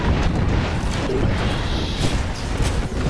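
Continuous rumbling blasts and booms from a game, dense and loud throughout, with no talking over them.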